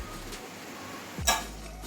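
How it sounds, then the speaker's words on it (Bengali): A pot lid comes off a pot of boiled jackfruit seeds with a single close, sharp clink and brief rattle, set against quiet kitchen background. "এবারে ঢাকনাটা খুলছি"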